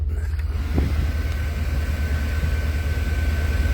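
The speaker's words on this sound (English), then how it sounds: "We redid the air conditioner on this." The rebuilt air conditioner runs inside a 1984 Jeep Grand Wagoneer, a steady airy blower hiss over a low, pulsing engine idle throb, constant and fairly quiet throughout.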